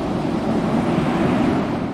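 Gentle sea waves lapping at a seaside shore, a steady soft wash of surf with some wind, continuous and close, with no voices.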